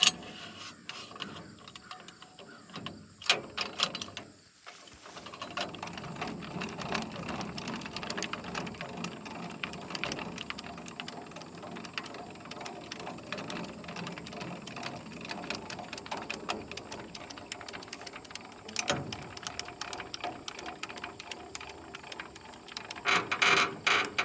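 A new ratcheting jack lifts a hay tedder to fix a flat tire, giving long runs of rapid mechanical clicking and grinding, close and moderately loud, with a short pause early on.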